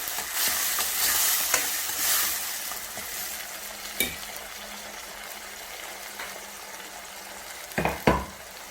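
Tomatoes go into a pan of frying onions for baingan bharta, a soft continuous sizzle with occasional stirring scrapes and a couple of louder clacks near the end; no talking.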